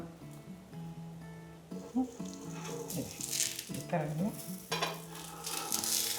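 Sweet potato holige cooks on a hot griddle with a steady sizzle and crackle, broken by utensil scrapes and taps as the flatbread is pressed and turned. A voice talks intermittently over the cooking.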